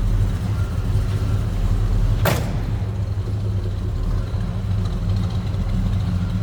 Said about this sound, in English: Nice little rumble coming out of that 327 small block Chev power.